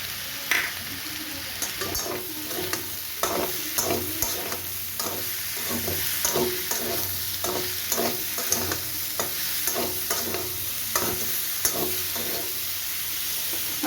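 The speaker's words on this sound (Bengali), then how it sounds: "কিছু দিয়ে ভালো করে নাড়াচাড়া করে নিলাম" Salt and turmeric get stirred through in a sizzling pan of drumstick and poppy seed curry, with rhythmic scraping strokes over a continuous loud frying hiss.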